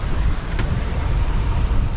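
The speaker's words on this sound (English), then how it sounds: "it is bloody windy" Strong wind of about 18 to 25 knots buffets and roars steadily on a catamaran offshore, with low rumbling gusts close to the microphone.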